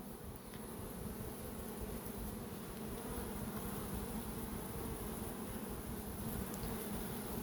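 Honey bees buzz in a steady, continuous drone, close by and unbroken, with no voices.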